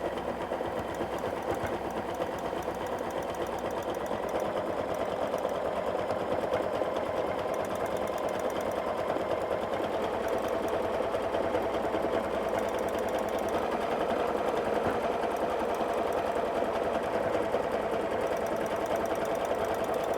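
A sewing machine free-motion quilts a Christmas star, its needle running in a fast, steady, close mechanical chatter that continues evenly for about twenty seconds with no voices.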